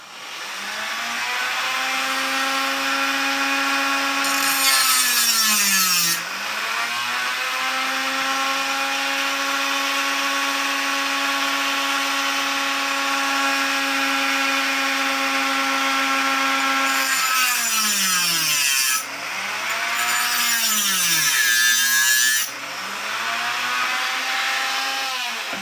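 A notch is cut into an old knife with a Dremel rotary tool, producing a loud, close, high whining grind that holds steady for long stretches, with the motor pitch dropping briefly when it slows or is repositioned.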